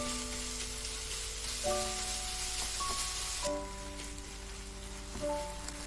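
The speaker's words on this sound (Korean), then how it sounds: "양파를 넣고 살짝 볶아줍니다. 다짐육을 넣고 살짝 볶고" Onion and minced meat stir-fry in a pan, a soft, even hiss like light rain that runs the whole time beneath gentle background music tones.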